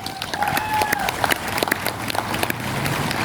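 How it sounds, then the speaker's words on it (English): A community day crowd gives a senator a round of applause, scattered claps heard through a busy outdoor murmur and a few faint voices, moderately loud throughout. "big round of applause for Liew O'Brien."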